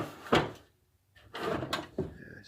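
An old metal tackle box lid swinging open with a clunk, then its stacked drawers sliding out with scraping metallic rattles and a final knock, close and moderately loud with no talk.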